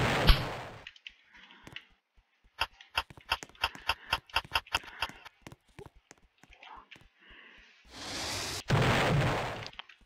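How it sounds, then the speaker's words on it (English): Explosions in the Roblox game Destroy the Neighborhood: a rapid series of sharp pops and bursts, then a louder sustained blast roaring near the end, with soft voice-like murmurs between them. "Explosions. That's what happens. More explosions."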